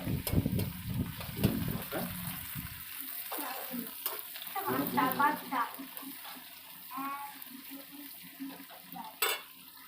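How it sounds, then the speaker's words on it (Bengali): Oil sizzles and crackles as crushed garlic fries in a pan, with intermittent stirring and clinks, while a person talks quietly nearby. "রসুন থেতোটা তেলে দেওয়া মানে খুব সুন্দর সেন্ট বেরোয়"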